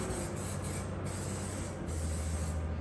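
Black zinc aerosol paint sprays steadily onto the inside of a Mazda MX5 NB chassis panel in a garage, a continuous close hiss with a few brief pauses between bursts.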